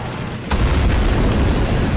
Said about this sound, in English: KV-1 destroyed, turret popping off.